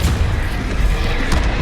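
Spell impact from the Depulso force-push charm in the Hogwarts Legacy video game: a dense, loud booming burst with heavy low rumble sustained through the short stretch, with no talk over it.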